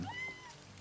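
A winged cat meowing in the video game Livber, one short, faint mew with a rising then falling tone over quiet background ambience.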